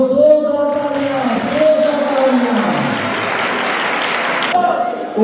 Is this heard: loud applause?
yes